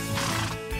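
A cartoon horse lets out a loud, close whinny lasting under a second, with a brief low snort-like burst near the end and no talking.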